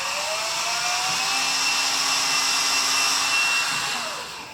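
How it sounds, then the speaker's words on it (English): A small power drill with a small bit whirs steadily for a few seconds drilling into a canvas frame, its motor pitch holding constant before winding down, with no talking. "what I like to do is use a small drill bit"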